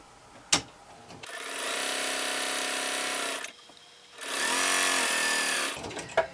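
Sewing machine fitted with a walking foot stitching long seam lines on a maxi dress, two sustained whirring runs of about two seconds each, close and fairly loud, separated by quiet pauses with a couple of sharp clicks.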